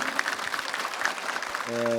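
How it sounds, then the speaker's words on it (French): Scattered clapping from a gala audience, fairly steady for a couple of seconds, with a sustained musical tone rising at the end. "je vous demande d'applaudir chaleureusement notre prochain invité sur scène"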